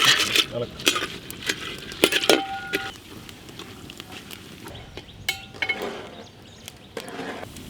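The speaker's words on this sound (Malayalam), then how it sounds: "കുറച്ച് അണ്ടിപ്പരിപ്പ് മുന്നിൽ വറുത്തെടുക്കാം" A metal spoon stirs and scrapes in a pan, with intermittent clinks and clatter and a faint hiss as cashews roast in ghee, close by.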